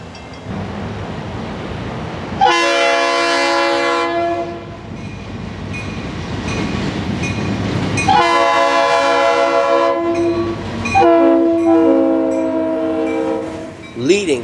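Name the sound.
Florida East Coast Railway GP40-2 locomotive train with horn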